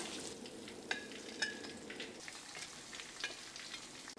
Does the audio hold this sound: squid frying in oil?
yes